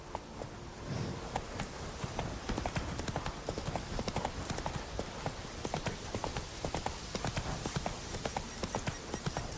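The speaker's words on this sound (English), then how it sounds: "Run, Roach" A horse named Roach gallops in The Witcher 3 video game, its hooves beating a fast, steady rhythm that stays continuous and fairly quiet, with no talking.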